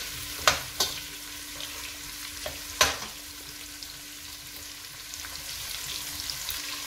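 Lamb fries quickly in a pot over high heat for pulao, an even sizzle broken by several sharp spoon clanks and scrapes against the pot.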